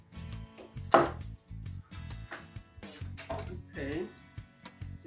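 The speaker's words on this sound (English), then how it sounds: "Okay, so then cut this part off, the base," A knife chops through the base of a cauliflower on a cutting board, a few firm cuts mixed in with a person talking in a home kitchen.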